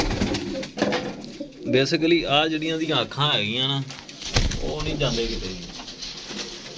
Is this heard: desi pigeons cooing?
yes